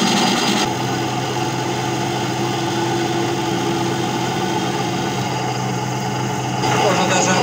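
A homemade belt grinder with rollers made from washing-machine bearings runs at a constant speed. It gives a steady mechanical hum with a faint whine and a short louder burst at the start and the end.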